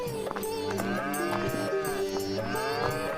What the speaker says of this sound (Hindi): उसने 2 बैलों की एक सुंदर जोड़ी खरीदी।